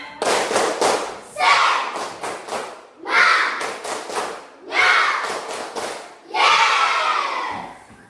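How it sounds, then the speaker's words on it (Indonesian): A group performs a rhythmic spirit clap in bursts, quick patterned claps each followed by a swelling cheer, repeated about four times, loud and close. "Oke, 1, 2, tepuk semangat."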